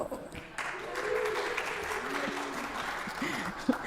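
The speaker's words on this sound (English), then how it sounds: "The people clapping have been to one before." Audience clapping in a church congregation service, a steady round of applause with voices underneath, moderately close and even throughout.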